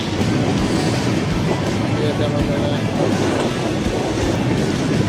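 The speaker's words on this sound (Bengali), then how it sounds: "এই এখানে একটা ট্রেন আছে" A steady, loud rumble of a train rolling along the tracks near the India–Bangladesh border, with a continuous roar and faint rhythmic clatter throughout.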